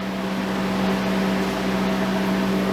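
A freeze dryer runs with a steady, loud broadband roar and a constant low hum, unchanging throughout, heard up close with no talking.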